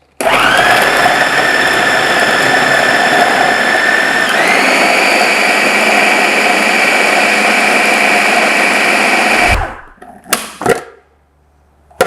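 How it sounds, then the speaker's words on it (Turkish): A blender whirs loudly and steadily, blending acuka, a Turkish red pepper paste, with a slight pitch shift partway through before it shuts off, followed by a few faint knocks. "Hemen bunu şöyle fişini de takayım. Blender'dan geçiriyorum. İyice karışana kadar."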